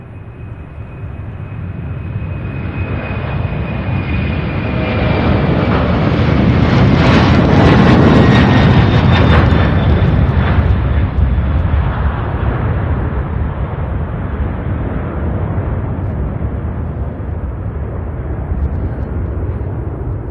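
A heavy UPS cargo jet spools up and takes off from runway 35 left at Louisville International Airport, bound for Oakland, California; a loud, sustained engine roar swells to a peak mid-clip and then slowly recedes, with wind buffeting the microphone.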